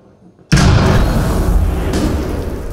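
A thermal breach charge detonates in Rainbow Six Siege, a sudden loud boom after a brief quiet moment, followed by a sustained roaring, rumbling blast that fills the rest of the clip.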